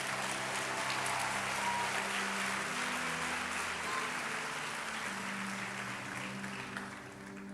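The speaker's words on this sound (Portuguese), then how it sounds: "Será que você pode aplaudir o Senhor?" A congregation applauds during a church healing service, a faint, continuous wash of clapping heard from a distance with a low hum underneath, fading slightly toward the end.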